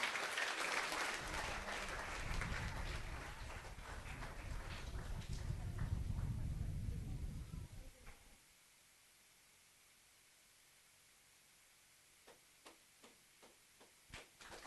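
An audience at a Child Evangelism Fellowship children's event claps warmly for a first-prize winner, a dense burst of applause lasting about eight seconds before fading into near silence broken by a few scattered claps.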